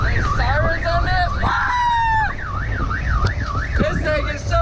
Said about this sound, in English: There's sirens on this.